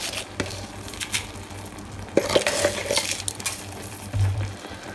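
Food mixture of rice, chicken, warm milk and sugar stirred in a single pot, with scraping utensil clatter against the metal and a few sharper clinks spread across the stretch, moderately close, no talking.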